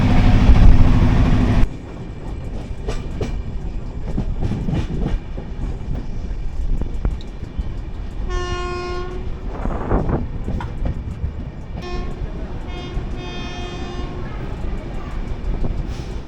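Black Diamond Express with LHB coaches running on rails, heard as a loud, steady rumble with rhythmic clickety-clack and wind buffeting, plus brief tonal whistles midway.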